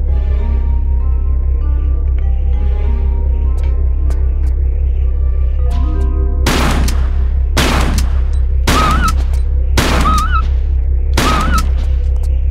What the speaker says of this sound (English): I think it's best to use the shotgun